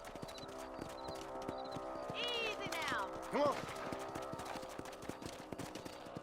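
Horse hooves clip-clop at a steady walking rhythm in the Western video game Red Dead Redemption, with a brief whinny partway through and someone speaking softly over the hoofbeats.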